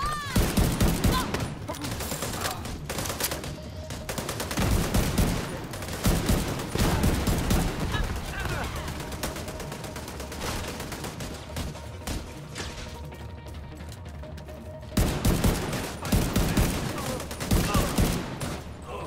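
Sustained gunfire crossfire in the video game The Division 2, rapid bursts of automatic weapons and single shots overlapping for the whole stretch, loud and near, with a brief lull before the firing picks up again.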